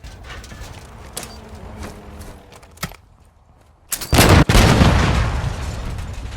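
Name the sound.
tank being destroyed, explosion, in video game Call of Duty MW2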